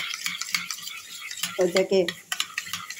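A spoon stirring cornflour into yogurt, with soft scraping and light clinks against the bowl in an irregular rhythm, close and fairly quiet, with a brief voice partway through.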